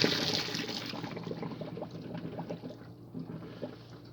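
Water poured out of a bushcraft coffee pot after boiling, a steady close splashing and gurgling stream that tapers off over a few seconds with no talking.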